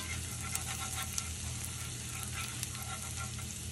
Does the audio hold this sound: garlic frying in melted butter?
yes